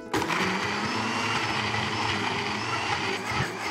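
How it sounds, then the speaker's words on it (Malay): A kitchen blender grinds garlic, ginger and boiled dried chillies into a paste, a steady loud motorised whir with a churning texture that holds constant throughout, close up and alone. "Semua ni kita kisar dengan 15 ke 20 tangkai cili kering yang dah direbus"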